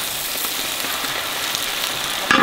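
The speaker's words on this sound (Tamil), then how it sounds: "வெங்காயம் கிண்டினா தான் வதங்கும். அப்படியா? அரைச்ச இஞ்சி பூண்டை போட்டுடலாம்." Onions frying with ground ginger-garlic paste in a pan, a steady close sizzle with no talking, and a brief stir or clatter near the end.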